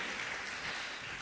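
A church congregation claps hands together in a dense, steady burst of applause that fills the space evenly, with no voices standing out.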